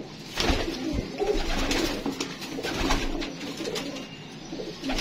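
Pigeons, the parents of a golden pigeon, cooing close by in soft repeated throaty calls, with rustling and shuffling around them and no talk.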